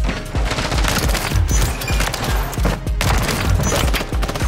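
Rapid gunfire from the Longbow sniper rifle in the shooter game Modern Warfare 3, sharp loud cracks and booms in a dense, irregular volley mixed with other battle noise, close and punchy throughout.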